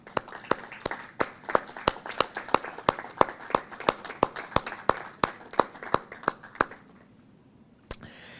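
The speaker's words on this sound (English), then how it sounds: "Please give Vivian a round of applause." Sparse, distinct handclaps from a small audience at a tribute ceremony ring out in a loose, slightly uneven rhythm. The clapping thins and stops near the end, and one last isolated clap follows.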